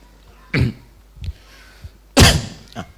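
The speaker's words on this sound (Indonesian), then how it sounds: "Itu batuk." Harsh coughs break into a quiet room: one sharp cough, a few smaller throaty sounds, then a louder, longer cough and a brief final hack.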